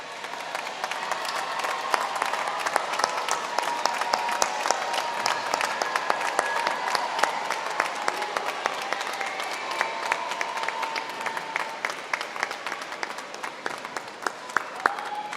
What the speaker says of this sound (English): please stand so that the graduates may show their appreciation with a round of applause